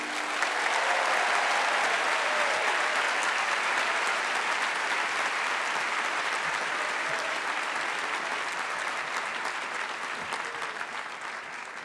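Sustained, dense applause from a large crowd at the Claremont McKenna College 2014 commencement for the graduating Master's class, steady and full throughout with a slight easing toward the end.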